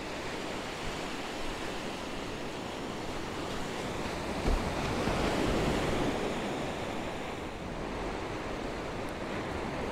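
Ocean waves on Rosslare beach in Ireland, a continuous loud roar of surf mixed with wind buffeting the microphone, swelling slightly midway, with no voices.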